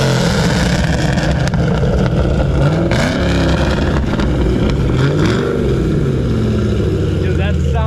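Loud, roaring engine revving at a Miami car meet, sustained high-volume growl with rising and falling pitch sweeps, crowd noise and shouting mixed in.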